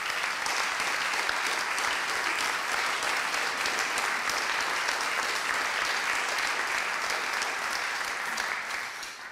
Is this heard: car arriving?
no